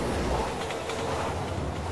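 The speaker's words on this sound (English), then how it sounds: "Train's coming." An approaching train in the video game Resident Evil 6 gives a loud, continuous low rumble and rushing roar that fills the whole moment with no voices over it.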